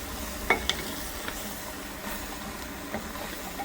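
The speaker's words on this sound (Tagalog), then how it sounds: "Kaya ako ginigisa yung sayote" Chayote (sayote) being sautéed in a very full pot for a Filipino soup, giving a soft, steady sizzle with a couple of sharp utensil clinks and stirring scrapes early on, fairly quiet and without talk.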